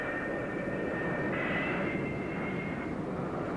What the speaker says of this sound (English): the deck director signals the pilot to run his engines up to takeoff power